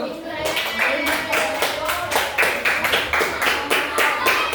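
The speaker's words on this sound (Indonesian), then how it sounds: "Ya, tepuk tangan dulu." A group claps hands steadily in a fast, even rhythm, close and continuous with no pauses.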